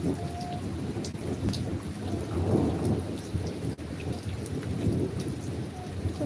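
Rain falls steadily with a low rolling rumble of thunder underneath, a constant dense hiss at a moderate level, with no speech.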